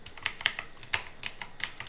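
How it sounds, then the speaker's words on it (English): A web address is typed on a computer keyboard as a short run of crisp, irregular key clicks, close and clear, with no talking. "you type https then google.com"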